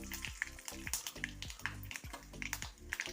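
Mustard seeds and dried red chilies spluttering in coconut oil in a pan, rapid irregular popping and crackling over a continuous sizzle, close and fairly loud.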